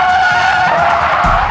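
Tires squeal loudly and continuously as a Rolls-Royce car drifts and skids around a race circuit, with engine noise beneath and a low rumble swelling near the end.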